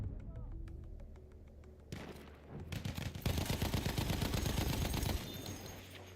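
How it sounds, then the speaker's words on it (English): Machine gun fire in the Battlefield 1 multiplayer game, a rapid continuous stream of shots building after a few scattered bursts and thuds, loud and dense in the middle before easing off near the end. "Machine gun over there."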